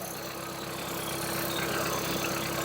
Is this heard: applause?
no